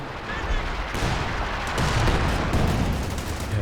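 Artillery barrage in the World War II strategy game Company of Heroes 2, a dense, continuous roar of overlapping shell impacts and gunfire that stays loud throughout.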